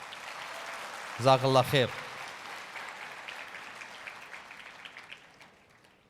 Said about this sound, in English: Give him one more applause, please.